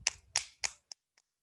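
A few quick hand claps during a yoga session, three crisp close claps followed by two fainter, softer taps trailing off.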